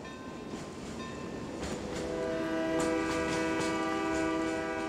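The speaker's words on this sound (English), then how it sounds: "I hear the train." A train rumbles closer, its horn sounding in long sustained blasts over the growing roar of the rails.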